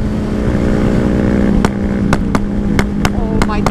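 A motorcycle revs and roars along a street in South County, a loud continuous engine drone close by, with several sharp bangs or backfire pops in the second half, the engine rumble filling the whole stretch.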